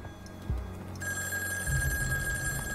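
A telephone ringing in the video game In Sound Mind, a steady electronic bell tone that starts partway through and keeps sounding alone over low ambient game background.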